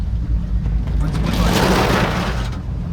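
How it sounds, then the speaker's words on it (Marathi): A car drives through a flooded road in heavy Mumbai rain, with a loud, continuous rushing wash of water and rain around the vehicle that stays steady for the whole stretch. "हा मुंबईचा पाऊस आहे आणि हे पाणी भरलेलं आहे एकदम"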